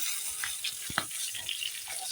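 A large catla fish head fries in oil, giving a faint, steady sizzle with a few soft utensil knocks close by and no voices.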